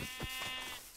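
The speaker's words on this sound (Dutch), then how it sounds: "Woe, pak die schaap." A sheep bleats in Minecraft, one short, buzzy, wavering call that is close and clear, with no talk over it.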